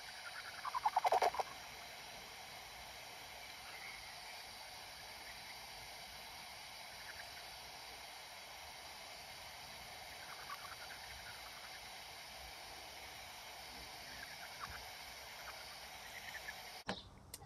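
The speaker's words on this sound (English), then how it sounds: "And then the horseshoe bats sound like little aliens" Horseshoe bat calls come through a bat detector as faint, warbling electronic chirps over a steady hiss, with a brief louder burst near the start.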